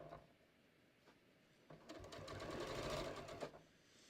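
A sewing machine stitches a patio cushion cover, quiet at first, then a faint, steady whirring run of stitching that builds for about two seconds before easing off, with no talking.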